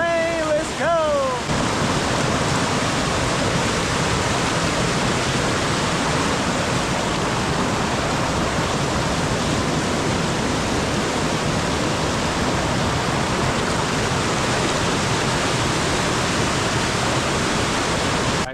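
Stoddard Canyon Falls on Mount Baldy, swollen after heavy rain amid snowy terrain, gives a loud, close, continuous rushing roar of falling water that never lets up, with a brief voice-like sound at the very start.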